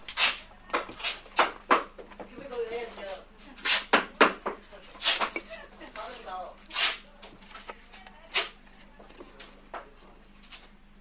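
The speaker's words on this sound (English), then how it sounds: "She'll be pounding the clay down into the bottom of these." Clay is pounded down into tall clay tubes in a series of sharp, irregular thuds and knocks, fairly close, with people talking throughout.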